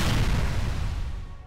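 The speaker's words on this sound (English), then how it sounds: "Let's listen to some explosions." A deep, rumbling explosion from Halo 3 on the Mombasa map, with destroyable buildings and Scarabs, heard as one heavy sustained boom that slowly fades, with no talking.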